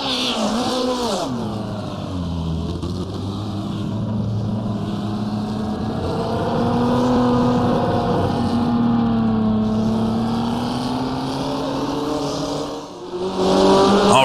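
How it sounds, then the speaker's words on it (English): A wingless, bare-bones custom 1970s Formula 1 car in the rFactor2 racing sim drones steadily at high revs, its pitch sliding up and down through gear changes, loud and continuous with no talking. "we're rolling out onto the track in our wingless, bare bones custom F1 car"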